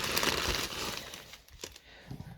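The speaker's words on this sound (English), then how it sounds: "Sorry for the crinkling." A craft packet is crinkled and handled close up, with a burst of crackly rustling at the start followed by scattered softer crinkles and taps.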